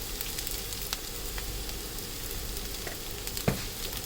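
Onions sautéing with turmeric powder in a pan for sambar make a steady, moderate sizzle with soft stirring and a single sharp tap near the end, and no voices.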